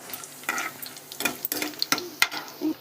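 Cumin seeds crackle and sizzle in hot tempering oil for a Telugu pandumirapakaya pachadi, with bursts of popping and spitting over a steady fry, plus a few sharp utensil clinks near the end.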